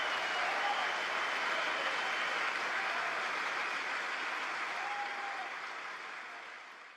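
Sustained applause from lawmakers in the US Congress chamber, a dense, steady wash of clapping that fills the space and slowly tapers toward the end, with no voices rising above it.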